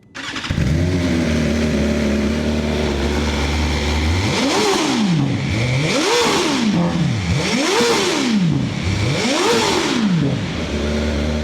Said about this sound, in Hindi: पहले सुनो इसकी स्टॉक बाइक की आवाज़।